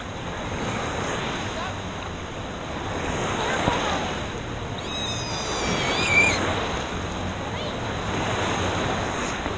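Waves wash at a Blizzard Beach water park in Walt Disney World, Orlando, as a continuous broad rushing surge with wind buffeting the microphone and faint voices in the background.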